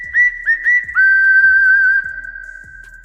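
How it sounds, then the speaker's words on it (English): Shrill whistling heard during a live Yankees versus Orioles baseball watch-along: several short rising chirps followed by one long sustained whistle, loud and close, with faint thumps underneath. "The whistle."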